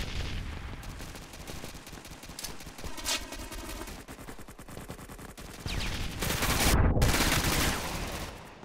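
Rapid bursts of automatic gunfire and scattered shots crackle in the online shooter video game PS3D, dense and continuous, with a louder intense stretch near the end.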